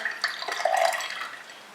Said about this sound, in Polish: i wyciśnięty sok wylewamy.